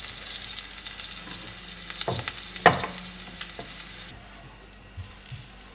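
Masala dosa sizzles steadily on a hot pan, a soft continuous frying crackle with a few light clinks and scrapes from a lid or utensil, faint and close with no talking.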